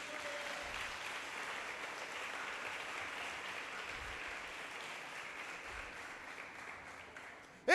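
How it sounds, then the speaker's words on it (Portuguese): A church congregation claps in sustained, even applause, a soft wash of many hands heard from some distance that carries on for nearly eight seconds. "Dá um aplauso a Jesus"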